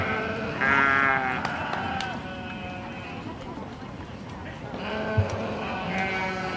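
Sheep bleat repeatedly at a county fair breeding sheep show, in drawn-out wavering calls over a busy barn background with an announcer talking throughout.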